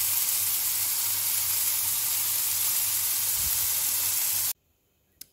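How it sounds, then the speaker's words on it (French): Bell peppers fry in oil in a pan with a bright, steady sizzle that runs for about four and a half seconds, then cuts off abruptly to near silence, ending in one small knock. "J'ai coupé 2 poivrons et je les fais revenir à la poêle dans de l'huile."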